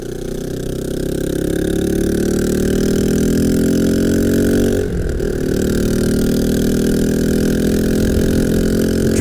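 Custom Janus motorcycle engine running with the exhaust bung removed, a close, loud, steady rumble with a brief dip and pickup midway, then settling back into an even throb; no one speaks.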